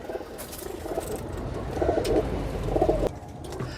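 Several cooing phrases from large pigeons kept in paired breeding lofts, mid-loud and fairly close, repeating in short bursts over a steady hum with no talking.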